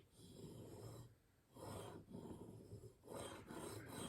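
A Rocky Mountain Specialty Gear Cutthroat single bevel broadhead is drawn across a sharpening surface in smooth, soft strokes with short pauses between them. The faint scraping sits close and quiet, with no voices.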